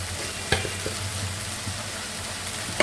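Ground spices with garlic, ginger and coriander powder frying in a pan for a curry, a steady close sizzle broken by a few sharp knocks and scrapes of a stirring spoon.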